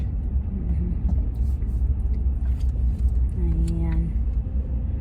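Low rumbling road traffic surrounds a car stuck in congestion on the way to church, a steady engine drone with a brief horn-like tone and voices speaking underneath.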